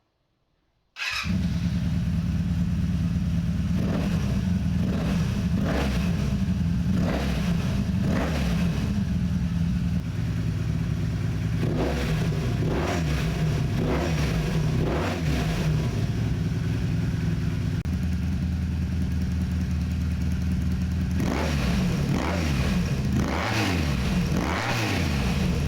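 A rebuilt Honda Interceptor VF500F motorcycle engine starts and idles close by, then gives repeated sharp throttle blips and revs over a steady idle, loud throughout with no talk.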